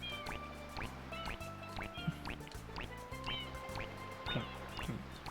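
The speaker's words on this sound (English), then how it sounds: "I just had to let the splurting quack noises go" Quacky, splurting cartoon-duck calls from the video game Super Mario Sunshine repeat in a steady bouncing rhythm, rising chirps layered over background game music at a moderate level.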